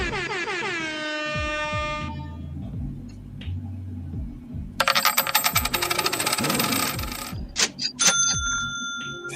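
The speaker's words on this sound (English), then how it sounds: "Throw the little quarter at him" A quarter-coin drop sound effect rattles in a bright metallic burst among soundboard noises: long horn blasts open, the clinking coin jingle follows, then sharp bell-like rings close it, with no talking.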